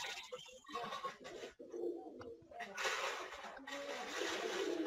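Pigeons in a loft of about 230 birds at feeding time, their cooing and calls mixing with wing flutters and scuffling as a steady, fairly close flock noise lasting throughout, with brief dips.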